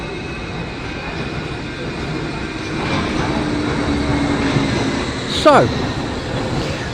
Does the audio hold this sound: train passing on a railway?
yes